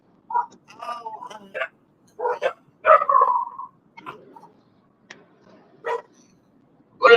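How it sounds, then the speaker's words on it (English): Dogs barking in short, scattered bursts at varying distance, some bright yips and a whimpering tone mixed in, loud against near silence between barks. "What are they barking for?"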